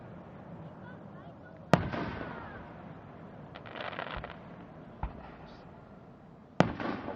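Fireworks burst over the Lime Rock race track, three sharp, distant booms spaced several seconds apart with crackling tails, while people talk quietly in between.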